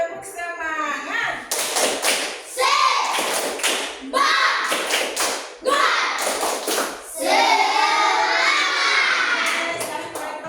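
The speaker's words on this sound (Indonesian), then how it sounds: "Kita kasih tepuk semangat dulu, tepuk semangat." An Indonesian primary classroom performs the 'tepuk semangat' clapping chant: loud, rhythmic group claps and slaps in bursts, with children's voices chanting and shouting along.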